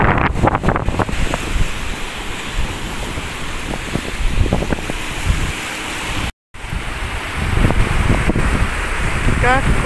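Strong wind buffets the microphone in a constant roar over rough sea waves crashing on the shore, with the gusts dropping out for a moment.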